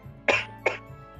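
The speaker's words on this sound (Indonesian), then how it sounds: "sorry agak batuk" A person coughs twice in quick succession, two short, sharp bursts close to the microphone against a quiet indoor background.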